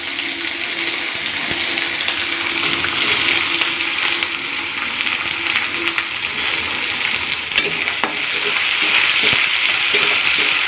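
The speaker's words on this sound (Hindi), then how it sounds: "पियाज ऐड करवा।" Onions frying in hot oil with lentils for simei upma, a loud, dense and continuous sizzle close up with a few faint stirring knocks, no voices.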